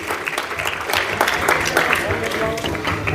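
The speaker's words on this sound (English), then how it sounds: "give them a good round of applause please" Students at a PU college and high school event in Yadgir give a round of applause, a dense, steady burst of many hands clapping at close range, with crowd noise underneath.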